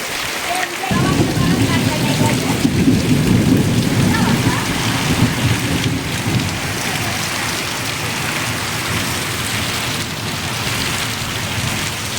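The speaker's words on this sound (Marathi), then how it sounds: "पहिलाच पाऊस" The season's first heavy rain pours down on a village in Ratnagiri, a loud, steady roar of drops on surfaces with low rumbling thunder running through it throughout.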